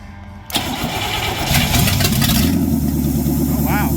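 A 390 engine in a 1952 Cadillac fires up for the first time: a click, then cranking that catches into a rough, loud idle close by, settling into a steady running rumble.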